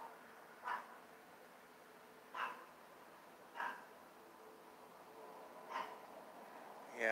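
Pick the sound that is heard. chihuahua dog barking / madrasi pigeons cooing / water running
chihuahua dog barking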